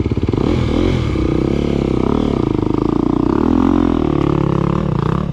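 A motorcycle engine revs and pulls as throttle is applied on a single-track trail, a loud, close, continuous drone that rises and falls with the throttle.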